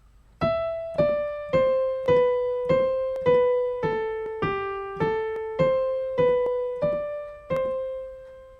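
A piano plays the simple melody of Sing a Song of Sixpence, about a dozen single notes, slow and evenly paced, each struck clearly and left to ring.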